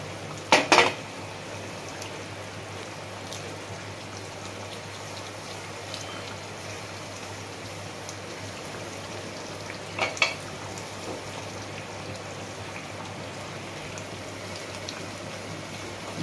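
Pabda fish and bori lentil dumplings go into a simmering Bengali curry, with a soft continuous bubbling and a couple of sharp clinks of a utensil against the pot.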